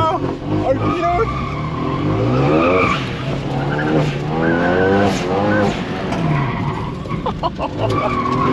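Cars skid and squeal at a destruction derby, with sweeping tire noise and engine roar running steadily throughout, loud and close, while excited commentators talk over it.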